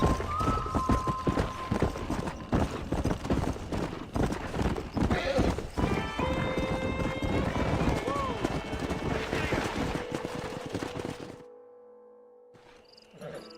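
A horse in the video game Red Dead Redemption gallops with rapid, continuous hoofbeats and gives a loud neigh, along with game music and talking voices, before the clip goes quiet near the end.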